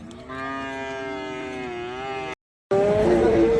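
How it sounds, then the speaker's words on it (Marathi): Young calves at a cattle market in Sangola bellow in long, loud, steady moos close by; one call is held, and after a brief silence a harsher moo follows. "शेतकरी मित्रांनो आता आपण ही पाडे कवर करतो"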